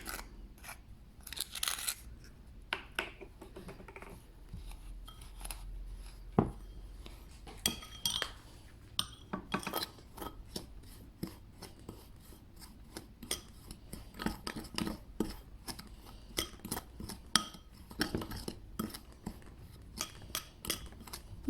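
A utensil stirs dry, sandy hyaluronic collagen lip mask ingredients into a main batch in a container. Irregular quiet clinks, taps and scrapes come alone, without speech.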